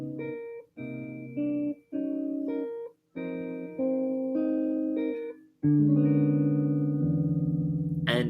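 A jazz guitar plays a 3-6-2-5 turnaround as a string of sustained chords in separate phrases, ending on a longer ringing chord, clean and up close with no talking.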